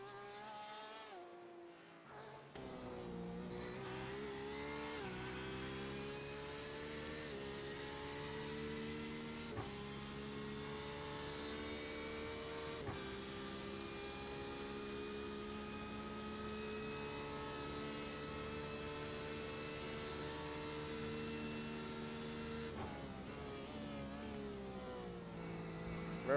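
A GT3 race car in a sim racing game screams near its limit, a sustained high-revving engine tone with steady harmonics that shift as it shifts gears and dips briefly at the start and near the end, loud and continuous without talk.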